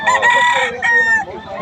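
Fighting cocks of the golden boy type at Bocaue crow loudly and close, two strong crows in quick succession with a clucking rooster overlapping, filling the short span.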